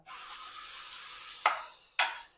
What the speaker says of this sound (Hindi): आणि तो पेस्ट आतां मातशें फ्राय करपाचो